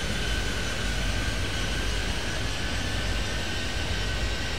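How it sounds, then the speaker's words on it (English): Airliner taking off in Airport Madness 3D, a steady, continuous engine roar with a sustained whine, even in loudness throughout and unbroken by other sounds. "8104, clear for takeoff, runway 30 right"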